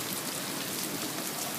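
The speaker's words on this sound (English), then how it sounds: "We got a heavy rain, the first one since we made our wall." Heavy rain pours down steadily against a newly built floodwall, a dense, even hiss of drops on surfaces with no voices.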